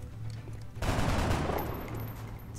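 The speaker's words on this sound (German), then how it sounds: "Dann mal versuchen erstmal mit einem normalen Schuss." A single gunshot from the turn-based strategy game XCOM, a sharp loud burst followed by a short rumbling decay that fades over about a second and a half, with a low hum from the game before it and after it.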